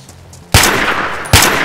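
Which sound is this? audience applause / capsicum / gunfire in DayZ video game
gunfire in DayZ video game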